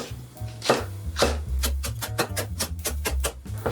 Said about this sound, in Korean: 청양고추 3개를 쫑쫑 썰어주겠습니다.